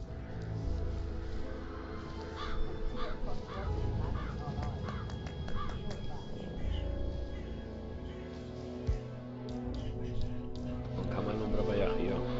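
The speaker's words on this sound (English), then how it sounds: "It's the birds. They're making a racket, droppings everywhere." Crows caw in a video game, a dense racket of overlapping calls that runs throughout under steady in-game talk and background noise.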